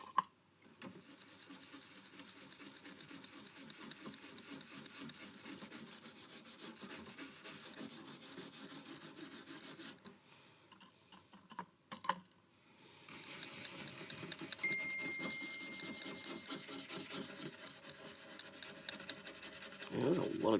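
Steady bristly scrubbing on a Fender amplifier circuit board to clear gunk off a trace, a close, quiet continuous rasp that pauses briefly midway and then resumes.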